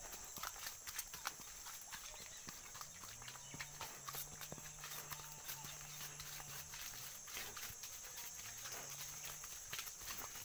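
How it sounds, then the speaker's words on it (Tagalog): A carabao walks along a rural path with steady hoof clip-clops that quicken, over a constant high insect drone and a low engine-like hum. "Parang binibilisan ng kalabaw yung paglalakad niya mga Katotski."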